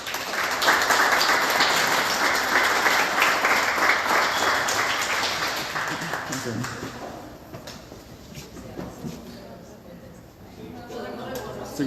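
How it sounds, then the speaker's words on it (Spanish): Strong audience applause at an academic symposium session on identity and the border, a dense roar of many hands that stays loud for several seconds, then thins and fades toward the end as scattered voices are heard. "Un fuerte aplauso, por favor."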